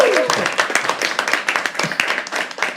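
An audience at a live poetry open mic claps and cheers for a practice cheer, with steady rapid applause and voices calling out throughout, close and fairly loud.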